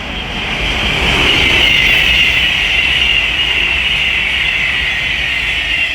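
A train passes at speed on the West Coast Main Line at Leighton Buzzard, a loud sustained rushing roar with a high-pitched whine that swells and then eases off slightly, with no one talking.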